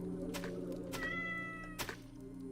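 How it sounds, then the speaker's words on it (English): A cat meows twice in a video game, clear and close, over a steady low droning background hum. "I heard that cat meowing."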